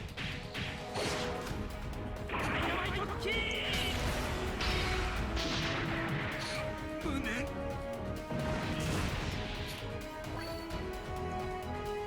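Dynamite Kick attack animation in the Super Robot Wars DD mobile game, a loud, continuous barrage of crashing impacts, whooshes and explosive blasts layered over game music, with a voice speaking briefly over it.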